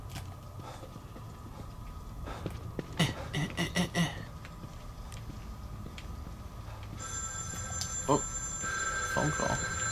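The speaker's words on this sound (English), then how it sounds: "Phone call." A telephone rings in a horror video game, with quick bell bursts in a clustered pattern and a couple of later rings over a low ambient hum and game sounds.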